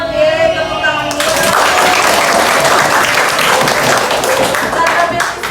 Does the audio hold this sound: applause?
yes